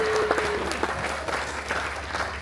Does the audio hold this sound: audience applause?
yes